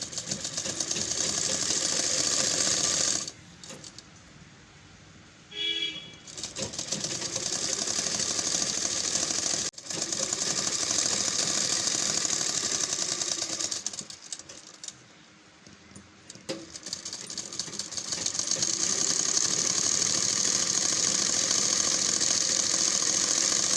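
A sewing machine stitches the sleeve hem of a long straight-cut suit, running in long whirring bursts with a couple of pauses between runs, close by and steady.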